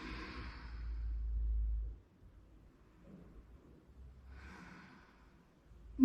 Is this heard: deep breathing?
yes